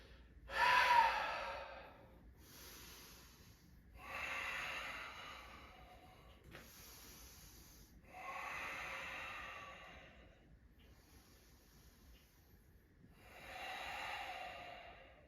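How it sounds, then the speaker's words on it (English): Slow, deep breaths during a yoga session repeat about every three to four seconds as soft, airy inhales and exhales, close and quiet with no talking. "Just breathing"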